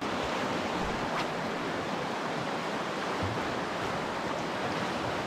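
The Buckland River near Bright, Victoria, flowing outdoors: a steady, dense rush of moving water that holds an even level for the whole stretch, with no voices over it.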